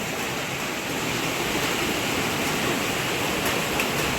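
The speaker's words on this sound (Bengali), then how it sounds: "হালকা হালকা বৃষ্টি পড়ছে এখনো" An even, continuous wash of rain hiss fills the whole stretch, with no voices.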